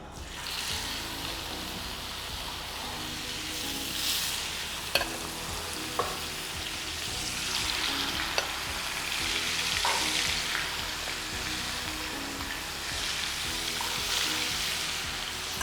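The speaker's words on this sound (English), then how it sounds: "It's time to add the fish to the oil." Fish frying in hot oil for an Andhra fish curry, a constant close sizzle that swells and eases, broken by a few sharp taps and clinks of a utensil in the pan.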